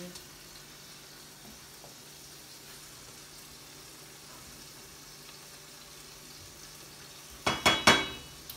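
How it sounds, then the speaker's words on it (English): Vegetables cook in a pan for stuffed green bell peppers with a faint, steady sizzle under a low hiss, broken near the end by a few loud, close clattering scrapes in quick succession. "Just go ahead and let your vegetables cook."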